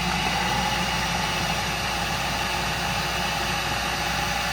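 A car engine hums steadily during a J-type overdrive test, a constant mid-level drone with faint vibration and no obvious change in pitch, with no voices.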